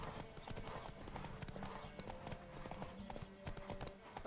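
Horse hooves clip-clop in a fast, steady galloping rhythm in the Witcher 3 video game, continuous and quiet throughout with no pauses.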